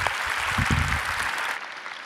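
Audience at a church graduation ceremony for missionary trainees claps in a short, dense burst of applause that fades after about a second and a half, leaving near quiet.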